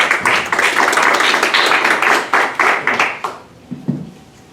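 An audience claps to welcome a speaker at a municipal awards presentation, loud dense applause close by that thins into a few scattered claps and fades out near the end.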